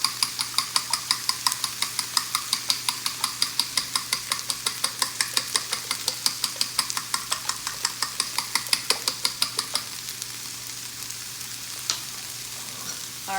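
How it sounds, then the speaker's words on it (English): A fork whisks eggs in a bowl to break up the yolks for a veggie omelet, tapping out fast, regular clicks that go on steadily before slowing and thinning out near the end. "I'm going to take the fork and whisk this together to break up all the yolks"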